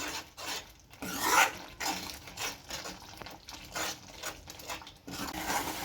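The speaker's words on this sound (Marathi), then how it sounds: "आता मी मसाला परतून घेते" Masala spice paste with turmeric and salt being sautéed in a pan for onion bhaji: repeated scraping and rubbing strokes of a spatula against the pan, moderately close and fairly soft, with no voice.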